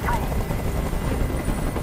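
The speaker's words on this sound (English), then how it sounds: "I can't stand that noise anymore. Tell that helicopter to get out of here." Helicopter hovering close by in the video game Detroit: Become Human, a steady loud rotor drone with low thudding beneath a voice speaking over it.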